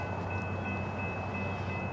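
Florida East Coast Railway freight train 103 bound for Fort Pierce rolls past in a steady, continuous rumble with a faint high tonal whine, with no voices.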